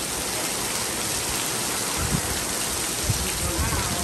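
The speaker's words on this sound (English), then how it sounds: "Got a little squall line coming through." A squall line from a tropical storm drives heavy rain across an RV campground in DeFuniak Springs, a steady broadband roar with occasional low thumps of wind gusts, with no clear talk.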